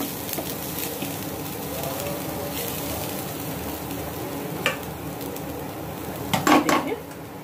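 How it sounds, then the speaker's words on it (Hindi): Grated coconut is stirred in a hot pan, giving a soft continuous sizzle with occasional utensil scrapes and a louder cluster of clinks near the end. "सबसे पहले आप एक पैन गरम कर ले और उस पर आप डाल ले नारियल।"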